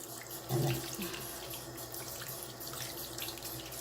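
Tap water running into a sink while a makeup brush is washed and rubbed, a steady close flow with a brief louder splash early on, no speech.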